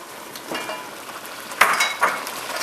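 A spoon stirring Velveeta cheese into a simmering pot of potato and shrimp chowder, with a soft bubbling sizzle under a few distinct scrapes and knocks against the pot, close and fairly loud.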